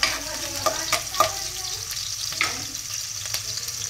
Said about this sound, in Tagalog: So yan, gisa muna natin.